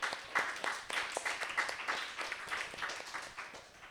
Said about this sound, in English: Can we give it up for Amber?